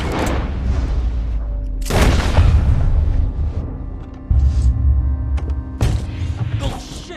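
Loud gunshots ring out in Red Dead Redemption 2, with sharp blasts at intervals and heavy booming tails that fill the space between them.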